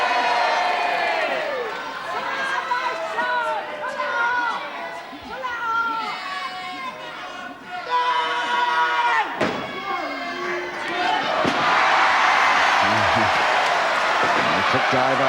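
Boxing crowd at the John Naylor vs Johnny England bout, a loud, sustained roar of many voices with shouts and whistles rising and falling throughout, swelling to a dense peak near the end.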